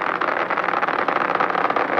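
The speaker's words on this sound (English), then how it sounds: "Engine throttling down now to help maintain optimum aerodynamic conditions as Atlantis accelerates through the dense lower atmosphere." Space Shuttle Atlantis main engines throttling down during launch, a steady, loud roaring rush with a slightly fluttering texture, heard as a continuous distant-sounding drone.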